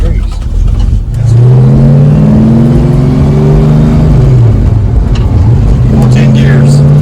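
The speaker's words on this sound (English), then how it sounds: "Now we're going to take a quick ride in the 85 coupe." 1985 Ford Mustang Foxbody coupe with a five-speed manual, heard from inside while driving; a loud engine drones and rises through gears, with talking over it.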